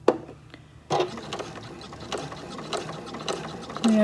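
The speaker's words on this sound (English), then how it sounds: "I'm just going to go forward a couple of stitches and back" Sewing machine stitching a few stitches forward then back to secure a seam on a fabric scrap Christmas ornament: a close, steady mechanical whir and ratcheting clatter, briefly pausing before running on.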